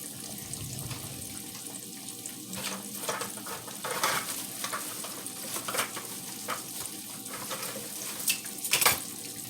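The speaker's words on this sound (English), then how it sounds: "There go my fish frying up in there." Fish frying in hot oil for southern crispy golden fried fish, a steady crackling sizzle with faint stirring and clatter, close and continuous without talk.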